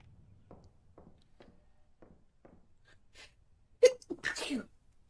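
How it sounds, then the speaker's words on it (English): A single sharp sneeze bursts out near the end, loud and close, after a stretch of quiet, soft clicking taps, in the video game The Mortuary Assistant. "Ooh, the sneeze."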